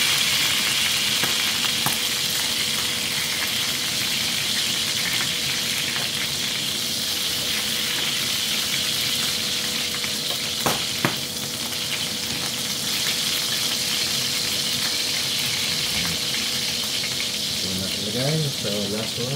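Food fries steadily in a deep pool of oil, a dense continuous sizzle and crackle close by for the whole stretch, with faint voices and a few light kitchen clinks near the end.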